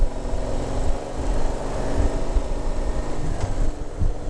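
A steady, loud engine rumble from a motorcycle exhaust, close by with a low throbbing drone and no talking.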